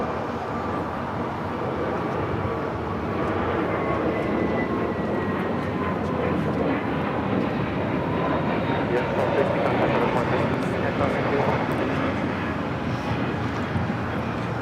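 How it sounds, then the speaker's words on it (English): A United Airlines A321neo jet airliner takes off at Los Angeles airport, its engines giving a loud, steady broadband roar that holds for the whole span with a faint whine on top, with no talk over it. "That was United Airlines 1260 taking off to Denver on the A321neo."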